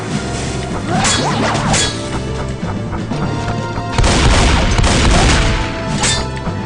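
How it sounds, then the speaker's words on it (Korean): Explosive crashes and booms from a cannon blast in Left 4 Dead 2, loud and dense, with repeated impacts and whooshing debris layered over game noise, swelling again near the end. "대포 뻥 터트리셈"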